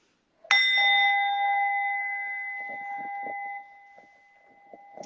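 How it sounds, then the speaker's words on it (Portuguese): A small bell is struck once, ringing out clearly and sustaining a long shimmering tone that slowly fades, with faint background rustling. "Então, eu vou tocar o meu sininho aqui."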